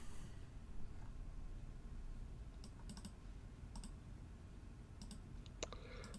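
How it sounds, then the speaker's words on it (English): A computer mouse clicks in scattered sharp bursts, some doubled or tripled, faint against a low steady room hum, with no voices. "Sorry about all the clicking."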